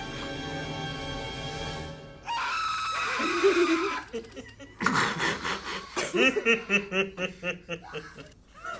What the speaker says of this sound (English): That scream is so good.